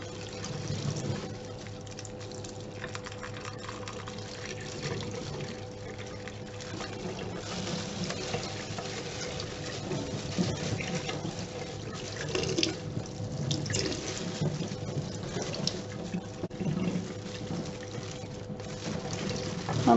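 Tepid tap water runs steadily over dyed cotton being rinsed, a continuous close splashing and trickling stream with small drips and sloshes throughout, no voices.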